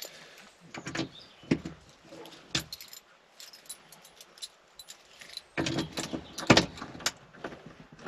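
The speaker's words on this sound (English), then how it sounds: "Got the keys, let's see." Keys to a 1968 MG B Roadster jangle and clink in short bursts, close by, with quiet pauses between and a few soft thumps and rustles around them.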